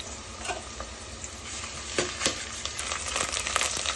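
Onions frying in a pan with ginger garlic paste for fish curry, a steady hiss and crackle with scraping stirs that build toward the end, close and without speech.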